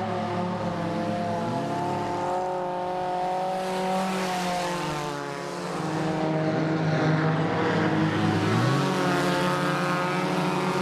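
Stock cars with glass removed racing at night on Lawrenceburg Speedway, engines roaring loud and close, revs rising and falling as cars pass in overlapping waves, with no talk.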